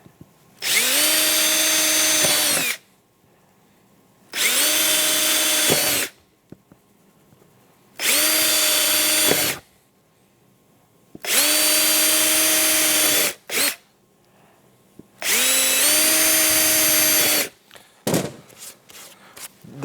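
A power drill pokes holes in a plastic panel on a Polaris AXYS snowmobile while a vent kit goes in. Five loud whining bursts of about two seconds each run with short pauses between them, and small handling noises trail at the end.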